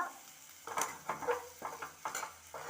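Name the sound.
stirring potato fry in a pan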